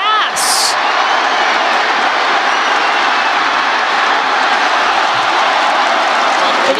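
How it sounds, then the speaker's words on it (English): Loud, dense stadium crowd roaring and cheering throughout a college football game as the Stanford Cardinal break a long run, a steady wash of noise with a brief whistle-like squeal near the start. "And you hear the crowd"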